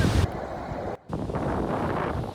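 Ocean waves and wind at a beach, a continuous loud roar of surf and gusting wind buffeting the microphone, with a brief dropout partway through.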